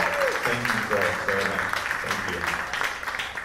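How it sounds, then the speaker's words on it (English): Audience applause at a live comedy show at the Towne Crier, a steady wash of clapping filling the room while voices talk and cheer over it throughout. "let's have a round of applause for that"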